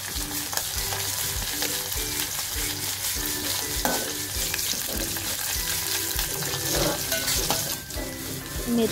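Mustard seeds, cumin and garlic sizzle in hot oil in a home kitchen, a dense continuous frying hiss with repeated light clicking and popping through the whole stretch.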